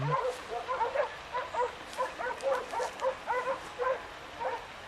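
Several hunting dogs bark and yip in quick, repeated bursts at a moderate distance during a wild boar hunt in Anatolia, a busy rhythmic chorus with a faint voice underneath.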